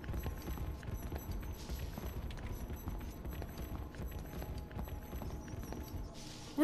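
A pig in the DreadOut video game runs away with a steady, rapid patter of hoofbeats. The sound is faint and continuous and carries on for several seconds under a low background.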